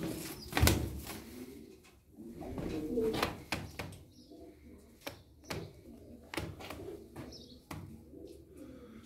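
Pigeons cooing softly in repeated short calls, with clatter and knocks around them and occasional voices in the background.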